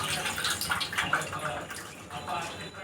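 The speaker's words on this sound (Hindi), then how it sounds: "इसमें थोड़ा सा हम ऊपर से ठंडा पानी डालेंगे, ताकि नूडल्स सब अलग अलग हो जाए।" Cold water poured from above over a pot of boiled noodles in a home kitchen, a steady close splashing and trickling stream that runs the whole time without pause.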